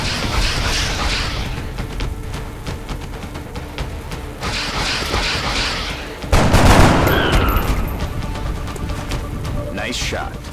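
Gunfire in XCOM: Enemy Unknown, a tactical squad battle: bursts of rifle fire and a heavy blast partway through, loud and close, with someone talking over the action.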